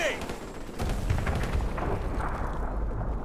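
Heavy gunfire aimed at a balcony in Call of Duty: Modern Warfare Remastered, with dense bursts of shots and booming explosions rolling continuously, loud and close, while voices talk under the din.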